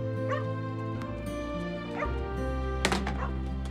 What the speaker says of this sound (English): We call him Pluto the Wonder Dog because we never really knew where he came from